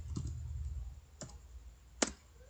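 A few sparse, sharp keystroke clicks on a computer keyboard, spaced irregularly over a low background hum, with no talking.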